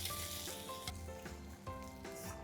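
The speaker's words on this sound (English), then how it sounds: "I'm just going to drain the matar and add them directly to our pan" Drained green peas (matar) hitting a hot pan of masala and sizzling loudly, with a steady frying hiss, a few soft clinks of stirring and no voices.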